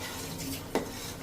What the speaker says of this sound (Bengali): মিক্স মশলা, মরিচ, যা মশলা আছে এগুলো সব মিক্স করে নেব